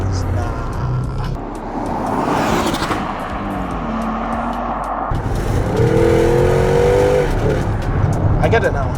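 A Porsche Cayenne GTS Coupe engine revs up through the gears with rising pitch sweeps and shift breaks, loud and close, while someone talks excitedly over it.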